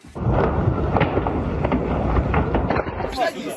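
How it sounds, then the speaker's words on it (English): Explosions from the bombardment of Kharkiv, Ukraine: a loud, sustained rumbling roar of blasts that fills the whole moment, heavy and close, then cuts off abruptly. "Ukraine's second city is under constant bombardment."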